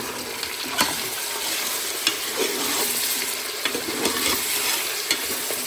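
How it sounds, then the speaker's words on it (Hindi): Meat fries in oil inside a pressure cooker, giving a steady, loud sizzle with occasional scraping clicks from stirring, heard alone without talk. "कुकर चढ़ा दिया, तेल डाल दिया और गोश्त को थोड़ा सा फ्राई कर रहे हैं"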